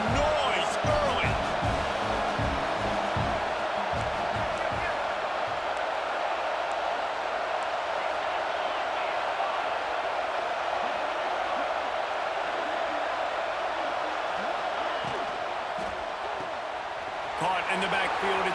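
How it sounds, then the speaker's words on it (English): A stadium crowd roars in EA Sports College Football 26, a dense, steady wash of noise filling the whole stretch, with scattered thumps early on and a brief dip near the end. "This crowd bringing the energy and noise early."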